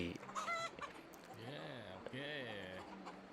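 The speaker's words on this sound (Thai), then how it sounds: "ในคลิปก็จะเป็นบรรยากาศ การเลี้ยงไก่หวนช้างนะครับ" Wenchang chickens on a farm call out in loud, repeated squawks and drawn-out clucks, close by, with a steady farmyard hum behind them.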